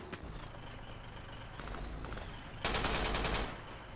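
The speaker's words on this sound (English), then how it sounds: "Taking fire from the east." Incoming gunfire in Forgotten Hope: a steady wash of distant crackling shots, swelling near the end into a louder, closer burst of rapid fire.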